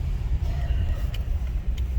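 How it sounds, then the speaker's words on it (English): Low rumbling ambience of a car park in Dunedin, with engine and tyre noise from cars moving nearby and a couple of faint, brief clicks; no one speaks. "We are in one of the many car parks in Dunedin."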